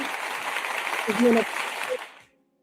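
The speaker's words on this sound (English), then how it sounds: "I'm gonna give y'all a round of applause" A round of applause from an audience of a few hundred people at a live event: dense steady clapping that swells briefly, then fades out within about two seconds.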